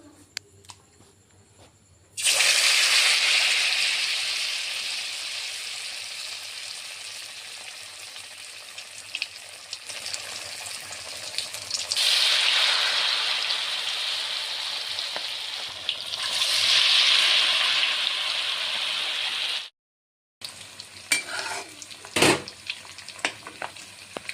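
Egg chops dropped into hot oil, giving a loud, bright sizzle and bubbling that swells and eases in waves, then cuts out briefly before quieter crackles and pops return; no one speaks.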